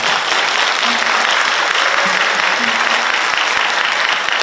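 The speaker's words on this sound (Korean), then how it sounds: "우리 강기정 시장님한테 뜨거운 박수 한번 부탁드리겠습니다." Loud, sustained audience applause fills the hall at a book launch event, steady clapping throughout without a break.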